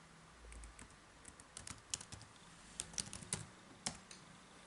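Keys clack on a computer keyboard as a path command is typed, with soft, quiet taps in short irregular bursts and a few sharper strokes.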